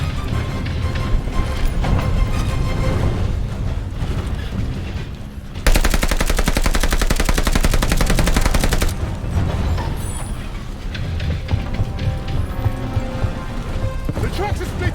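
Gunfire in the Call of Duty Vanguard video game, with dense, rapid machine-gun bursts and a sharp sustained volley in the middle, mixed with rumbling game noise and shouted voices.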